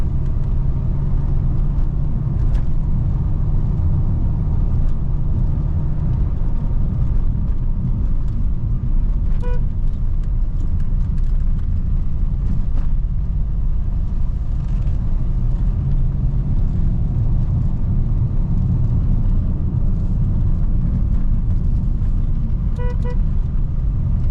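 Interior drone of a Renault Fluence 1.5 dCi driving a winding Black Sea coastal road between Cide and İnebolu, a steady low engine and tyre rumble with a few faint clicks, close and continuous without talk.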